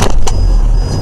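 A Hyundai Solaris car pulls away after a road accident, a loud close engine rumble with a couple of sharp knocks at the start before the sound steadies.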